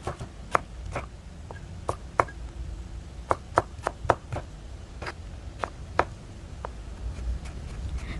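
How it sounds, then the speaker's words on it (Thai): A knife chops a peeled carrot into small cubes on a cutting board, giving a quiet, irregular series of sharp taps spaced through the stretch with no talking. "ส่วนแครอทเราก็นำมาปอกเปลือก แล้วก็นำมาหั่นเป็นลูกเต๋าเหมือนกันค่ะ"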